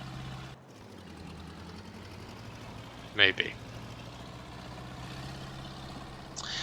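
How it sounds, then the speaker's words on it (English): A four-wheel drive tractor engine runs in a low, steady drone throughout while it drives along, with a brief louder clank or hiss midway and a voice speaking briefly. "But it is a four-wheel drive tractor."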